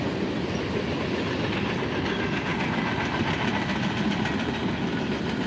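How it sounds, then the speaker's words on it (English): A train passing by in Las Vegas, a loud continuous rumble with rhythmic clickety-clack of wheels over rails, steady for several seconds with no speech. "You start live streaming and the train will go by."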